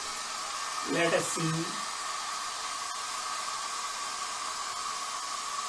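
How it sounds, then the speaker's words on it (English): A hair dryer blows steadily throughout with a broad, even hiss, holding a ping pong ball aloft over its airstream; someone speaks briefly near the start over the continuous rush of air. "If I switch on the hair dryer and put a ball, ping pong ball over the hair dryer"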